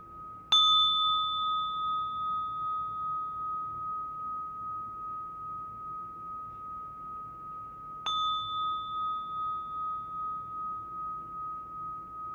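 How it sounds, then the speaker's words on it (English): A mindfulness bell rings twice, each strike a clear metallic ding with a steady ringing tone that fades slowly over several seconds, about eight seconds apart in a quiet room. "Really receiving the sound of this bell."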